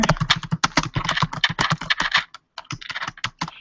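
Quick, close clatter of keystrokes on a computer keyboard as a message is typed into a public webinar chat room, a dense run of taps broken by one brief pause before a few final keys.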